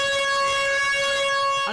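A school siren at Antipolo National High School wails in a loud, steady, sustained electronic tone, alone and unbroken, before cutting off abruptly.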